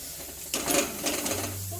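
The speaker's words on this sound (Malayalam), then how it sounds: "ഇനി നമുക്കിതിലേക്ക് തക്കാളി ചേർത്ത് കൊടുക്കാം" Tomatoes drop into a pan of spiced chicken masala and set off a sudden sizzling hiss that settles into a steady frying sound, close and moderately loud.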